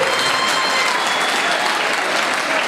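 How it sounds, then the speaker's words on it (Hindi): Students at a college welcome party give the vice principal loud applause, a dense, even roar of many hands clapping close and steady from start to finish with no break. "ज़ोरदार तालियां दें"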